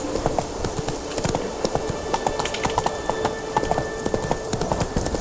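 Horse hooves gallop in The Witcher 3: Wild Hunt, a fast steady clip-clop of rapid, sharp hoofbeats running close and loud for the whole stretch, with no talk over them.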